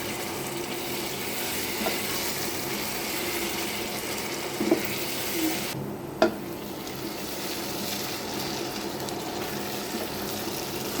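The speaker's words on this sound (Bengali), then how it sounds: "এবার এই মশলাগুলোকে খুব সুন্দরভাবে কষিয়ে নিতে হবে" Ground spices with crushed cardamom fry in an oily pan, giving a steady, close sizzling hiss throughout with a few soft clinks from stirring and no talking.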